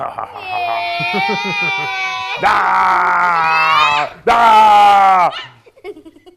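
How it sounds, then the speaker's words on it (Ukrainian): Loud, strained shouting and wailing voices in long sustained bursts, close up, with brief breaks between outbursts. "Я голосніше кричав через те, да."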